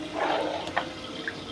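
Hot water poured into a cooking pot of boiled lentils while making sambar, a steady close splashing gush that runs the whole time with a couple of brief clinks.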